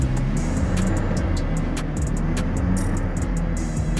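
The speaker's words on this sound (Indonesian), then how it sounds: "Nih, suara knalpotnya juga terasa berbet ya." Exhaust of a petrol Toyota Innova that feels sluggish and can't pass about 3000 rpm when revved, a steady low engine drone with a heavy throb, close and loud, no speech.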